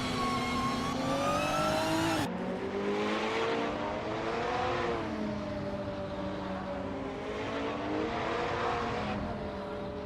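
Race cars in a racing video game, a 2015 Porsche 718 Cayman GT4 among them, screaming at high revs with shifting engine pitch, a sharp gear change early on, then sustained loud roaring from several cars with no talk.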